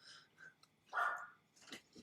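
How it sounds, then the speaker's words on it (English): A schnauzer barks indoors at home, a few short yips and one louder bark in quick succession, moderately close but fairly quiet, with no talking over it. "I'm so sorry, guys, about the dog."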